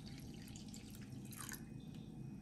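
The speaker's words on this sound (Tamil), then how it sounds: "இப்படி இப்ப இந்த பாலை நம்ம ஊத்திக்கலாம்." Milk is poured into curd in a bowl at home, a soft continuous liquid trickle and splash, close and quiet, with no talking.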